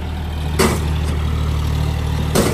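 A tractor engine idles steadily nearby, a low continuous rumble with a couple of brief bursts of noise over it.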